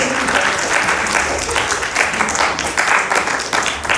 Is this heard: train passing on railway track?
no